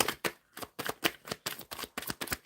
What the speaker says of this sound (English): When I was shuffling.